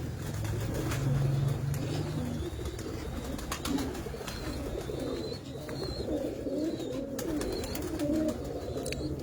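Rare-breed pigeons coo in soft, repeated low bursts, several birds overlapping in a steady murmur that runs the whole time, fairly close, with no talking.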